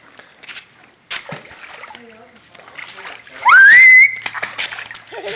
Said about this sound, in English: Get in there and get it. Look at him. Splash Daddy.